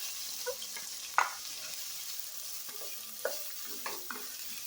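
Onions fry in oil and butter in a pan for a paneer gravy, a steady soft sizzle broken by a few stirring clinks and scrapes, fairly quiet and close with no talk.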